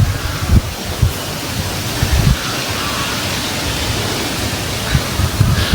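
A cool breeze blows outdoors beside a home garden with a guava plant, a steady rushing hiss with soft gusts and occasional low thumps of wind buffeting the microphone, with no one speaking.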